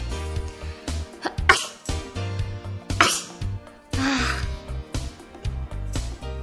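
A voice imitates sneezing, with three sharp sneeze bursts spaced a second or so apart over quiet background music.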